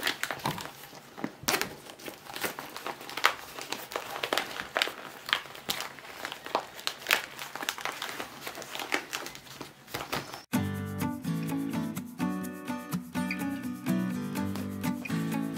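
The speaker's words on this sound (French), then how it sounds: "Et maintenant, on peut retourner notre pochette." A handmade pouch of recycled denim and clear vinyl being turned right side out, with crinkling, rubbing fabric and plastic rustles up close, followed by music that takes over.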